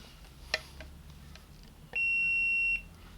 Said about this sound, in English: I'm just going to do it with a buzzer